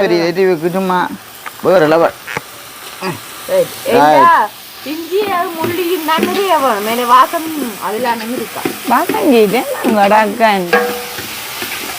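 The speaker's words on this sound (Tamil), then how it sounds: "இன்னும் கொஞ்சம் வதக்கலா வேறு தயிர் கொஞ்சம் போடணும் இப்போ இஞ்சி போட்டோம்" Ginger sautés in a pan with a steady sizzle and scraping stir strokes, heard close up beneath a person talking almost throughout.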